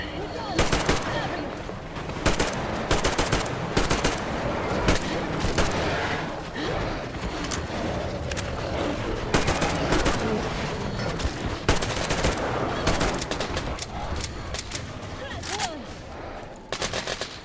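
Sustained automatic gunfire in Metro Exodus, dense rapid bursts of shots rattling almost without pause, loud and close, with faint voices mixed underneath.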